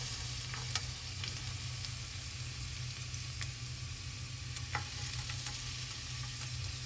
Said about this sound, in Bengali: রসুনটাকে আমরা একটু ব্রাউন ব্রাউন করে ভেজে নিব।